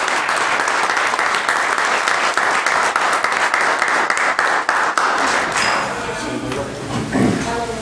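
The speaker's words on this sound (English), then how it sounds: "let's give away one more round of applause" A round of applause fills a township committee meeting room, brisk and dense for several seconds before tapering off, after which voices begin talking as the clapping dies away.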